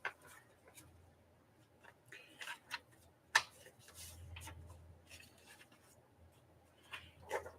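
Printed paper pieces being cut out with scissors at a craft table: soft, scattered snips and paper rustles at an uneven pace, close and quiet, with a few sharper clicks.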